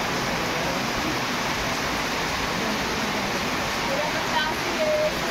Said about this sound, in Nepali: झन्झन ठुलो पानी पऱ्यो है